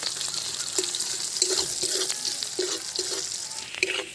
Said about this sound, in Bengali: যে পেঁয়াজটা কুচি রেখে দিয়েছিলাম সে পেঁয়াজটা তেলে দিয়ে দেবো।